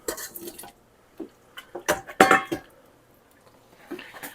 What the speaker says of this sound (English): I'm going to put the potatoes in.